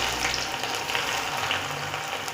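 Four medium onions frying in a pan give off a steady, close sizzle with crackling spatter, continuous and without speech.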